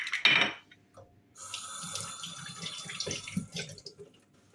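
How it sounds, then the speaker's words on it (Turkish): Hands are washed under a running kitchen tap between baking steps, a close splash of flowing water starting after a brief burst, then a steady stream with small splatters before it stops. "Hemen ellerimi yıkayayım."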